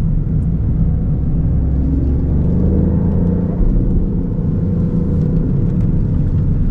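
A Lexus LBX Morizo RR with anti-lag driving on a circuit, its engine a loud, steady, close rumble and whir under load, with no talk.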